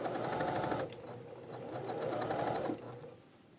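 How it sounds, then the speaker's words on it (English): A sewing machine stitching a pocket whirs in two short, close bursts with a brief dip between them, fairly quiet and without speech. "All right, we'll stitch right up here."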